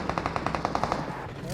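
Rapid automatic gunfire in a video game, about ten quick evenly spaced shots in a short burst, moderately loud, ending abruptly.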